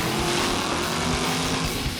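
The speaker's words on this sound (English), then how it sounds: "Look at that Chevette go." A Chevrolet Chevette launches down a drag strip at US 131 Motorsports Park, its engine giving a loud, steady, continuous roar for the full stretch with no speech over it.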